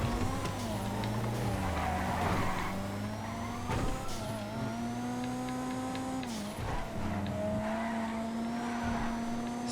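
Race cars in a GTA FiveM online race roar close by, engines revving up and down through gear shifts with rising and falling pitch, brief tire squeals and passing cars layered over a steady motor drone.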